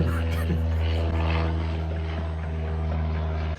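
An airplane drones overhead with a steady low engine hum and strong propeller-like tones, loud and continuous throughout, with faint talk underneath.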